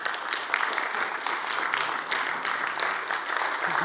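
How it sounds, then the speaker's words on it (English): A conference audience at an mRNA technology transfer event applauds, a steady, moderately loud patter of many hands clapping throughout. "Could you please stand up for an applause from this audience?"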